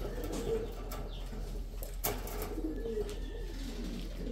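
Pigeons in a breeder cage, among them a young black tiger pigeon, coo softly and steadily over a low background hum, with an occasional brief rustle or flutter.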